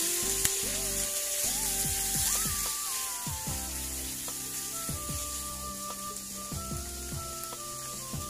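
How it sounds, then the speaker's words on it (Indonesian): Chicken pieces frying in about three tablespoons of hot oil in a pan, a soft continuous sizzle running under background music with a melody and steady beat. "Terus ayamnya digoreng sampai nanti setengah garing ya."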